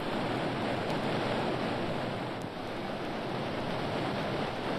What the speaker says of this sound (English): Listen, that roar. Is it a waterfall?